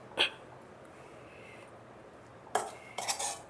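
Stuffed brinjal curry cooked with onion chili masala being moved into a serving dish: a few sharp clinks of a utensil against cookware, one early and a short cluster near the end, with quiet room tone between.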